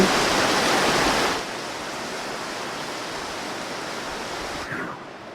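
A waterfall in Shiobara, Tochigi, Japan, set among old houses at the foot of a mountain, roars with a loud, steady rushing wash that drops slightly in level after a moment and continues unbroken.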